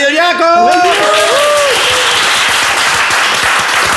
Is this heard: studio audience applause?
yes